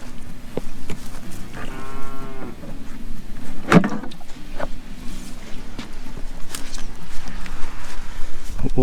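Cattle in a pasture field low out in a long moo near the middle, with rustling and background farm noise throughout around a portable livestock water tank.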